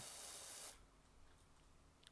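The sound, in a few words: pressure washer spraying water on roof in PowerWash Simulator video game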